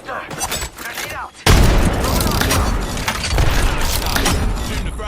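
A grenade blast in a shooter video game hits with a sudden loud boom, followed by sustained roaring debris and gunfire-like clatter; quieter game sounds come before it.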